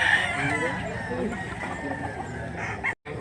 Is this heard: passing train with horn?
no